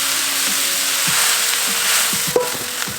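Hardy kiwi vine shoots, dressed with sesame oil and soy sauce, stir-fry in a little cooking oil, giving a loud steady close sizzle with soft scraping stirs and one sharp knock of a utensil against the pan.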